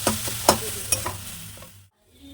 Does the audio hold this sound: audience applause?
no